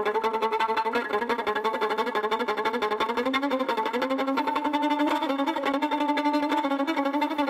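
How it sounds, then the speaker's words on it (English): Fast violin run of Flight of the Bumblebee at normal tempo, a continuous stream of rapid chromatic notes played loud and close, steady throughout with no talking. "You're going to play Flight of the Bumblebee for us this morning."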